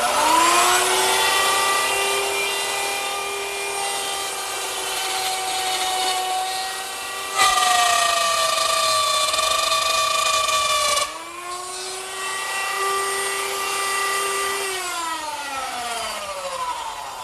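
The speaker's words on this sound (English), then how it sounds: "I use the same router setup with a stop block in a new position and a reference line to plunge down into the router bit" A plunge router cuts a mortise into a wooden leg, its high motor whine loud and close, pitch dipping under load, with abrupt cuts at two points where the sound shifts.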